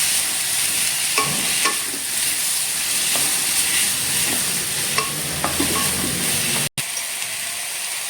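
Crushed garlic and ginger with a pinch of salt sauté in a hot pan for pepper chicken, giving a steady loud sizzle with occasional stirring clicks and scrapes throughout.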